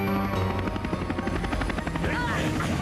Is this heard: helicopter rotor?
yes